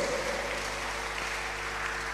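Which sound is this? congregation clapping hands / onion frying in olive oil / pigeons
congregation clapping hands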